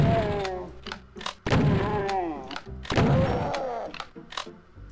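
Shotgun blasts in Doom II, a run of heavy booming shots at roughly one-second intervals, each followed by a swooping, warbling tail of game sound, loud and close.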